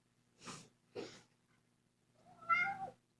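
A kitten gives two short, breathy sounds followed by a clear, drawn-out meow, close and quiet in a calm indoor setting.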